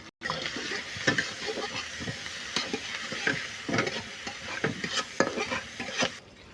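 Onion, tomato and cumin with salt and turmeric being stirred and fried in a pan, steady close sizzling broken by repeated scraping stirs, with no voices.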